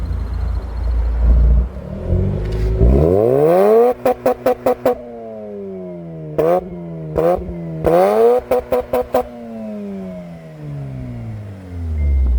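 A Mazda RX8 engine revs hard through its exhaust, climbing in pitch repeatedly with sharp popping bursts between pulls, loud and close.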